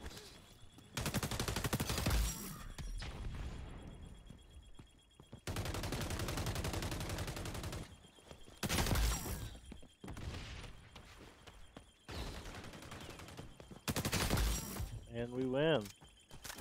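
Bursts of rapid gunfire from the online shooter XDefiant during ranked play, several loud sustained volleys separated by short pauses, with a voice talking in between.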